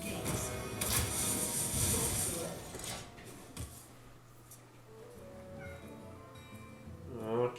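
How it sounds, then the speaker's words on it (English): A pet cat meows close by, a loud drawn-out cry with a couple of shorter calls, over steady background noise while a person talks. "Oh, kitty. Bad kitty."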